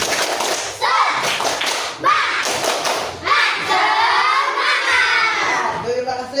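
A class of schoolchildren doing a rhythmic Indonesian 'tepuk semangat' clapping chant, sharp claps and thuds in bursts, mixed with loud shouted chanting voices close by.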